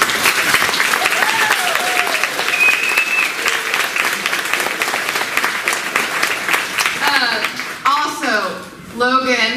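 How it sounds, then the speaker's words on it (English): Sustained audience applause fills a 2019 Davis FFA banquet hall, loud and steady throughout with voices and cheering mixed in, tapering slightly near the end. "So if you would give them a round of applause."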